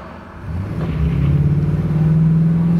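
An old Chevy pickup's engine rumbles and builds as it accelerates, a low droning growl rising steadily and staying loud up close.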